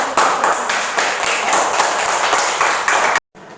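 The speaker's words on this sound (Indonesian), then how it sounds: "Tepuk tangan dulu." Children in a classroom clap their hands together, a loud, dense burst of steady group clapping lasting a few seconds before cutting off abruptly.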